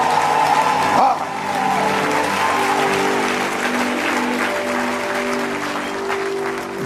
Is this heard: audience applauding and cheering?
yes